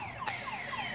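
A neighbour's car alarm sounds faintly in the distance, its warbling tone sweeping repeatedly downward over a low background hum during one brief moment.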